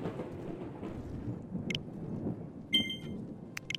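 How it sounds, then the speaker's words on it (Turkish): Steady rain and low thunder rumble in Mount & Blade: Warband with The Last Days overhaul mod, a continuous wash of rain under a few sharp, brief cracks near the end. "Bir de yağmur yağıyor."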